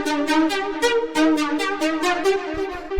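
A second synth lead from a techno track plays a quick run of bright, plucky repeated notes at an even rhythm, alone and fairly loud.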